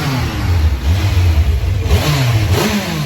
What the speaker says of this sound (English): Let me just rev the engine.